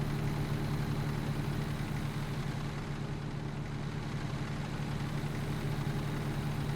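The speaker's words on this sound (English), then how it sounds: "the good sound of the engine booming away in my eardrums" A heavy truck engine in American Truck Simulator drones continuously at a steady idle-like rumble, deep and loud throughout, with no voices.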